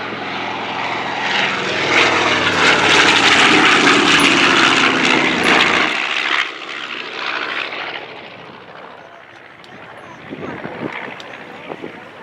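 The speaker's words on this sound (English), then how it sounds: "And here comes our first B-25." A B-25 bomber in a 2015 WW2 weekend airshow parade roars past loud and close with heavy propeller-engine drone, then fades into quieter distant engine sound and wind.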